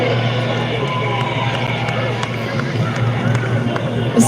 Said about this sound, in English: Listen to the crowd trying to get this St Kilda side over the line